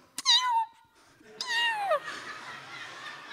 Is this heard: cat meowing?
yes